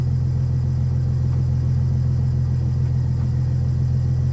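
A Chrysler 300C engine settles into a steady idle right after start-up, a constant low rumble with a faint hum holding even and unbroken throughout, no voices over it.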